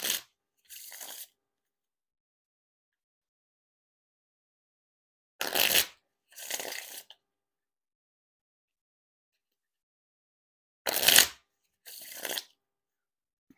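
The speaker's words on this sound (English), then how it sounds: "Now time for the riffle shuffle or bridge shuffle." Theory11 Gold Artisan playing cards riffle shuffled by hand three times, each a crisp burst of rapid flicking followed by a softer bridge cascade, close and clear with silence between.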